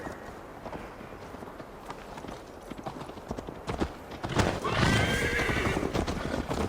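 Horse hooves clip-clopping with snorts and whinnies as a mount is ridden in Assassin's Creed Valhalla, steady hoofbeats that swell louder and more driving toward the end, with no talk.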